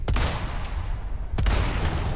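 Gunshots in Resident Evil 4 Remake, two sharp loud reports about a second apart over a low rumbling game ambience.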